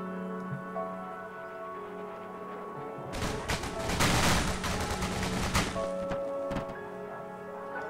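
Gunfire in the military shooter Arma 3, heard as a dense burst of sustained shooting and crashing impacts lasting several seconds over a quieter game background, with no talk.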